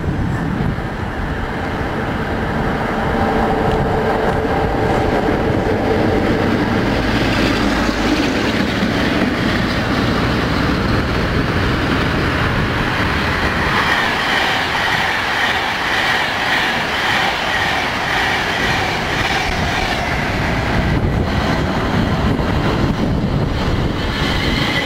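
Special train passes on the railway line toward London Euston, a long loud rumble with rhythmic clickety-clack of wheels and wind buffeting the microphone.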